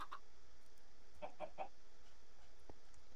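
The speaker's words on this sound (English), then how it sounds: "I'm happy with 3 chickens." Chickens in the Minecraft video game give short clucks, a quick pair at the start and then three evenly spaced clucks in the middle, fairly quiet over a low steady background with no talking.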